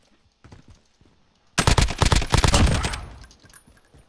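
Gunfire in Call of Duty Modern Warfare 2019, a loud close burst of rapid automatic shots that runs about a second and a half and then fades, after some faint quieter sounds.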